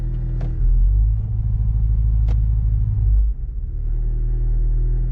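A Honda car engine idling in neutral with a rough vibration, a low, vibrating rumble that holds steady throughout, with a couple of faint clicks on top.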